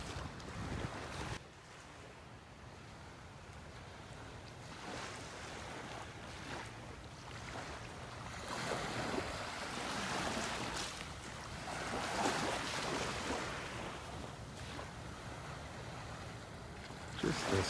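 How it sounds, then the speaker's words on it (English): Small waves lap gently on a beach shore in North Naples, Florida, on a calm morning, a soft washing hiss that swells and recedes with light wind noise. "Just the smallest of waves lapping on the shore this morning."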